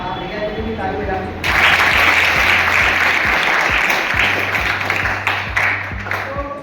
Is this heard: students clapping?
yes